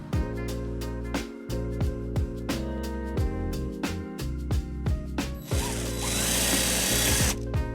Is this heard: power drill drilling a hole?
yes